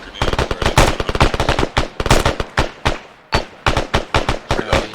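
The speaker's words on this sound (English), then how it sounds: "Keep that Mad Minute up. Keep on shooting, keep on shooting." Marines in a training platoon pour out sustained rifle and machine gun fire in a Mad Minute drill, loud rapid cracks overlapping in dense strings with only one brief pause.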